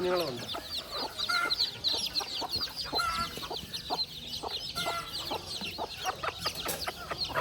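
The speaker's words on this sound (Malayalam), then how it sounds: "രണ്ട് കോഴിയുടെ കീഴിൽ ഇറങ്ങിയ കുഞ്ഞുങ്ങൾ ഇറങ്ങിയതാണ്" A hen clucks steadily while many chicks peep in rapid, high-pitched chirps, a busy close-up chorus that continues throughout.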